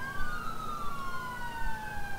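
A wailing police siren in Grand Theft Auto IV multiplayer sweeps steadily up and down, loud and continuous, over a low rumbling engine hum.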